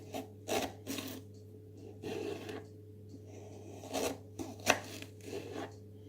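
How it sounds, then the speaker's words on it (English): A knife slicing an onion on a board at home while making hot dogs: soft rasping cuts come in separate strokes, close and fairly quiet over a steady low hum, with no talking. "So I'm going to slice it."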